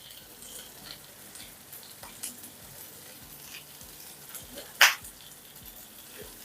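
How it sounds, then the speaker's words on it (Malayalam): Finely chopped onions sautéing in oil for pepper chicken: a soft, continuous sizzle with light stirring scrapes and one sharp metallic clink near the end. "ഇനി ഇതിലേക്ക് സവോള അരിഞ്ഞത് കൂടെ ചേർത്ത് കൊടുക്കാം"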